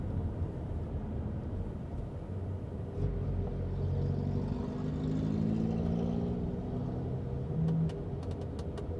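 Inside an OMODA C5 EV electric car cruising at about 80 km/h, a steady low road and tyre rumble fills the cabin with a faint whine, no engine roar, and a few soft clicks near the end.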